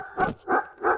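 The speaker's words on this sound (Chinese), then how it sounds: "你竟然管你的狗叫圣六，还让他撞我" Three quick, evenly spaced dog barks close by, short and fairly loud.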